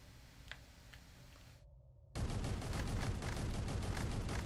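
Rapid gunfire in the shooter video game After Wave Downfall starts abruptly after a brief silence and keeps up as a loud, dense burst of shots to the end.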